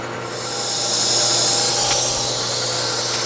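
A hole saw cuts slowly through 3/8-inch steel plate on an old 1931 South Bend lathe, giving a steady loud grinding hiss with a low motor hum beneath, swelling in over the first second.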